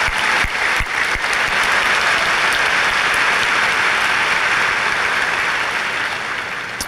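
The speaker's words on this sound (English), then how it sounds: "By your applause, let's recognize these folks." Applause fills a high school graduation ceremony hall, a large audience clapping loudly and continuously for about seven seconds, slowly tapering.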